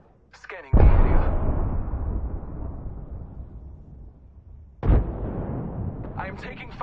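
Two heavy booming impacts during incoming fire in Apex Legends, each a sharp blast with a long rumbling tail, a few seconds apart, with brief voice sounds around them.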